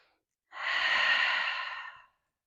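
A single long, deep breath drawn during a slow-flow yoga session, loud and close, swelling in over about a second and a half and then tapering off, with no talking.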